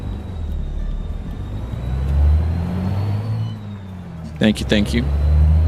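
A deep, rumbling DD60 diesel truck engine in American Truck Simulator idling and revving up close, with a brief burst of speech near the end.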